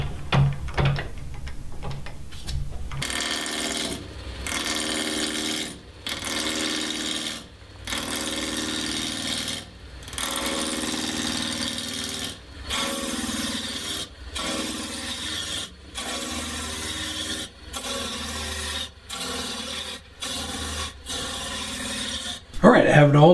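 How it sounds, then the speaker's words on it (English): A roughing gouge trues up a maple blank spinning between centers on a wood lathe, giving a steady loud scraping rasp broken by short regular pauses as the tool is lifted and repositioned, with no talk. "I'm going to go ahead and put it in between the centers and go ahead and true it up with a roughing gout."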